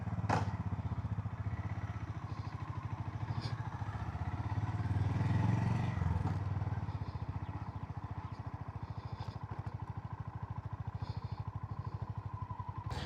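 A Honda CB350RS motorcycle rides along with a steady, rapid single-cylinder thump and engine drone, swelling slightly mid-way, with wind rumble and a few faint clicks.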